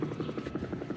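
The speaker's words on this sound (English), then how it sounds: "there's been a helicopter going overhead" A helicopter passes overhead above a camp, its rotor throbbing in a steady, fairly loud pulse throughout, with no one speaking.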